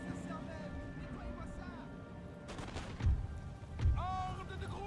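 Musket volleys from mounted dragoons firing on Russian troops in the Napoleon: Total War video game, heard as two sharp crackling bursts over steady battle ambience, with someone talking throughout.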